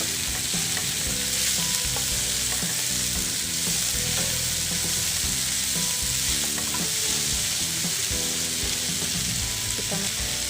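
Papaya leaves sizzle and crackle loudly in a hot pan while being stirred, a constant frying hiss overlaid with repeated scraping and clinking of the utensil against the pan, with no talking.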